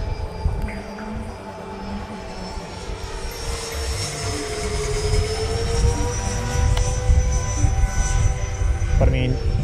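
An RC F/A-18 Hornet jet powered by an FMS Viper 90mm electric ducted fan whines steadily overhead, its pitch sliding slightly as it passes, with wind noise and a voice talking now and then.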